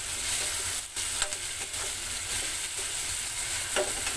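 Chopped capsicum sizzles and fries in a pan for street-style Maggi noodles, a steady close hiss with a few soft stirring scrapes.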